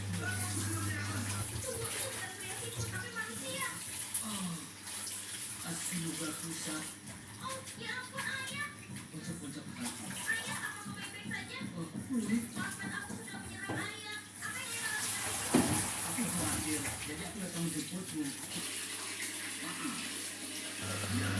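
Chopped spinach is washed under a running kitchen tap, water splashing steadily into a sink while someone talks and children's voices come and go in the background.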